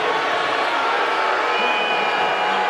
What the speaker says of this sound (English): Crowd was getting really amped up and you almost couldn't hear the whistle.